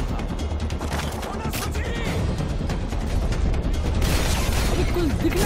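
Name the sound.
gunfire in video game Call of Duty Modern Warfare 3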